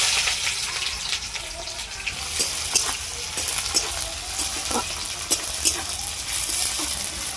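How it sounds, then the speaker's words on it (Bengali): Chopped onion, bay leaves and spices fry in oil for chana paneer, giving a steady close-up sizzle broken by scraping stirs, with no talk. "এর মধ্যে আমি আবারও একটু তেল দিয়ে দিব মশলাটা ভাজার জন্য।"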